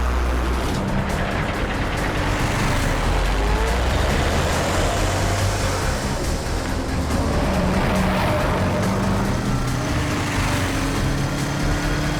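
A car engine roars steadily for the whole stretch, loud and close, with a broad rushing noise like fast, reckless driving and no talk over it.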